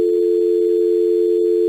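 Continuous telephone dial tone on an office phone extension, a loud steady hum held unbroken and alone at close range.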